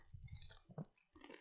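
Crunchy food is chewed close to the microphone in a quiet room, with several soft crunching bites in a quick cluster, a brief pause, then more chewing.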